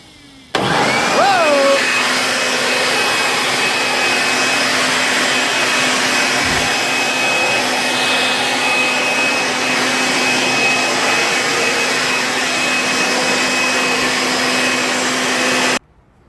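A Craftsman electric blower/vac runs loud and steady for about fifteen seconds, with a brief rising whine as it spins up at the start, then a constant roaring hum until it cuts off.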